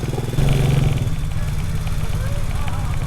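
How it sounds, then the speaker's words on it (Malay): Motorcycle engine running loud and close with a steady low mid-pitched drone and clattering, briefly revving before settling into a rumbling idle as it is ridden and brought to a stop for parking. "Motor kita dah parking."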